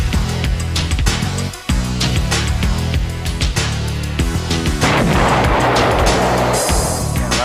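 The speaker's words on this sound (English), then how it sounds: "Some high drag weapons coming off." Bombs released from naval aircraft burst in a rapid series of loud, close explosions and booms, followed by a dense, sustained roar of blasts and debris.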